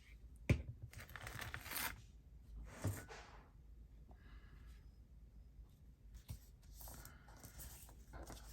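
Paper is cut and handled while envelopes are assembled into a journal, with a few soft snips, rustles and scrapes at close range, quiet and intermittent with short pauses.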